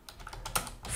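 Quiet typing on a computer keyboard, a brief run of soft, irregular key clicks close by with no talking.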